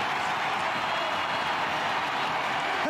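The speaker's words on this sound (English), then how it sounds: "Listen to this crowd." Large stadium crowd at a Major League Soccer match, Houston Dynamo against Austin, cheering as Hector Herrera enters the game, a dense, steady roar with clapping that holds without a break.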